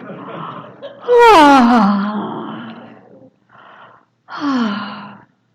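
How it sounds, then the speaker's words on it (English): Several drawn-out yawns from a group of people, heard as vocal groans and moans, one long sliding sigh followed by shorter ones, loud and close with brief pauses between. "I'd like you to stretch and yawn. Yawn 3 times."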